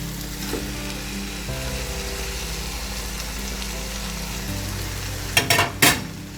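Leaves being stirred into thick, mushy tomato paste in a hot pan for chicken biryani, a steady sizzle throughout with a couple of brief scraping strokes near the end, close and moderate.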